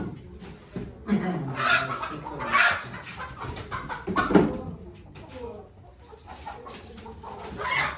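Hens cluck and squawk in repeated bursts close by, with people talking and chuckling over them.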